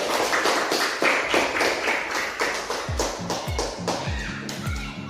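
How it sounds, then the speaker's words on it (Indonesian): Classroom of pupils clapping together for a student group during a school physical education lesson, a dense patter of many hands at close range, with rhythmic low thumps joining in over the final seconds. "tepuk tangan untuk kelompok B"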